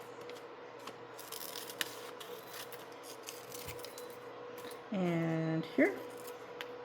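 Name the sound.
cutting paper for a greeting card along lines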